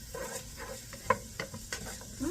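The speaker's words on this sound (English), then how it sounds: "we're going to continue to stir this around and let this cook" Food stirred in a sizzling pan, a low steady fry under scattered scrapes and light clinks of a utensil against the pan, close and fairly quiet.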